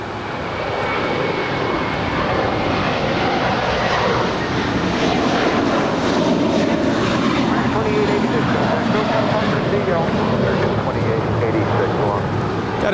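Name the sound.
Airbus A321 jet departing, American 2886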